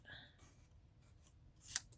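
Scissors snip through patterned craft paper during a holiday papercraft project, a quiet setting with a single sharp, crisp cut near the end after a few faint rustles.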